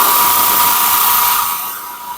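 A pelletizer machine running loud and close, a steady high-pitched mechanical whine that holds even and then eases off slightly near the end.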